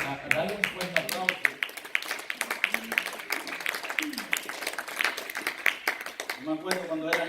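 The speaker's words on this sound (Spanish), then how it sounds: "Dale un fuerte aplauso." A church congregation claps during a Thanksgiving sermon, with uneven, sharp claps scattered through the clip and voices speaking over them.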